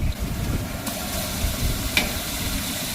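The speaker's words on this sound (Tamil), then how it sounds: "இப்போ அந்த பச்சை வாசம் போக நல்லா வதக்கிக்கலாம்" Ginger garlic paste, about 600 grams, sautéing in a large pot of oil for wedding-style mutton biryani, giving a steady close sizzle and hiss with occasional faint stirring scrapes and no talk.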